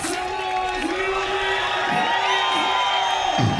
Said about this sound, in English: Everybody make some noise